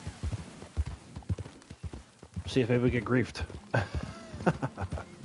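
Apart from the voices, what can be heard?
horse hooves while riding in Red Dead Online video game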